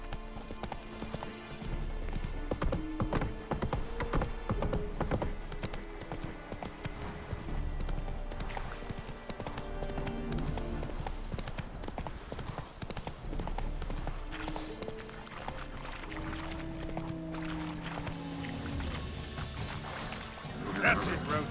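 Roach the horse galloping in The Witcher game, a steady clip-clop of hooves running under music and a voice talking throughout.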